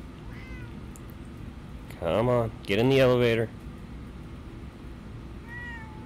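A cat in the video game Fallout 4 lets out two loud, drawn-out meows in quick succession over a constant background hum, with someone speaking quietly around them.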